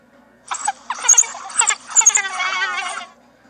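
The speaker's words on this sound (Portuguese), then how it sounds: "Isto é um mabeco ou cão selvagem africano." An African wild dog gives a rapid run of high, squealing, bleat-like calls in a few close bursts over about three seconds, heard alone against a quiet background.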